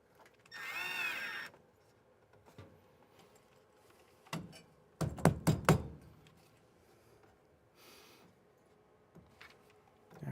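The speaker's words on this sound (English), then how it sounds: "don't do what I do and use drills as hammers" A power drill is used as a hammer while framing a shower inside a Ford Transit van: a short drill whir, then a quick series of hard wooden knocks and thunks with quiet gaps between.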